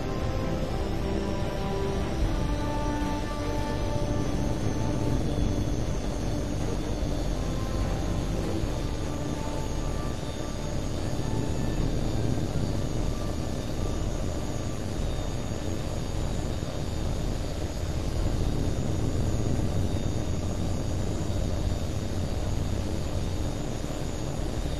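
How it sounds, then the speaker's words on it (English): A fighter jet in the video game Tom Clancy's H.A.W.X. 2 rolls out for takeoff, its engine a steady, loud roar with a faint whine that holds evenly for the whole stretch. "Polaris Flight, this is Bulldog. You're clear for takeoff."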